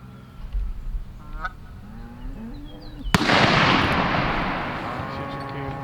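Geese honk in the open during a goose hunt, then a single loud, close shotgun blast cracks out and rolls into a long echoing rumble.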